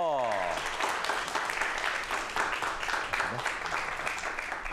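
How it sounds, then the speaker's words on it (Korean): A television studio audience applauds to welcome two guests on a talk show, steady full clapping that swells and holds, with a voice briefly heard at the start. "오늘의 주인공 두 분을 박수로 환영해 주시기 바랍니다"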